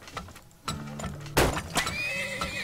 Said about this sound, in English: Let me get some horses together.